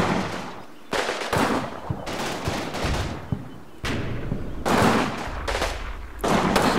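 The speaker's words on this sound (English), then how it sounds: "So they look to be firing" Battle gunfire in a video game crackles in overlapping bursts and sustained volleys, loud and close, with brief lulls between heavy stretches of rapid fire.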